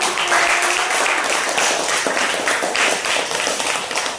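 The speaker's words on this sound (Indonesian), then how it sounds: "Tepuk tangan untuk" An audience applauds after a teacher's classroom presentation, a dense burst of many hands clapping that stays loud and steady for several seconds.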